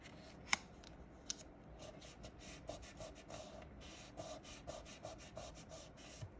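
Steady, close scratchy rubbing as Versamark ink is worked through a stencil onto card stock, a continuous brushing texture with a few sharp taps near the start.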